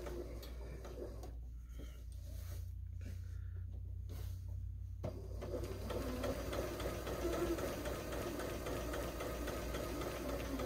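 A sewing machine stitches a Christmas pillow, running as a low continuous whirring drone with a rapid mechanical chatter that steadies after a few pauses early on, close but fairly quiet.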